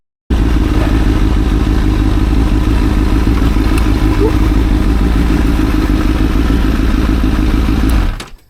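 A motorcycle engine idles and runs steadily up close during a test ride of a rare bike, a loud, even, low throbbing with a rattling clatter that holds for about eight seconds and then cuts off.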